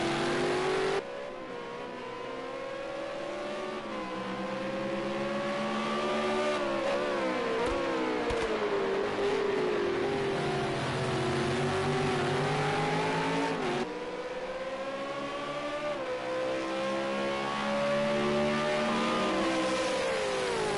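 V8 Supercars race engines howl at Bathurst as the pack nears the home straight, loud sustained revving with rising and falling pitch through gear changes and passing cars, no talk over it.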